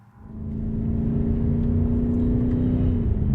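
A BMW M8 Competition engine swells from quiet to a deep, steady rumbling drone within half a second, then holds that loud, close, even growl to the end.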